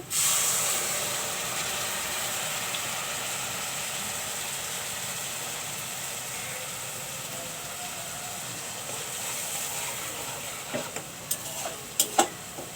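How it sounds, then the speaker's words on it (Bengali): Spice mix added to a hot pan while cooking prawns with yardlong beans gives a steady, loud, hissing sizzle that runs without a break, with a few sharp clicks of a utensil near the end. "এখন আমি মশলা মিক্সড করে রেখেছি এগুলো দিয়ে দিচ্ছি"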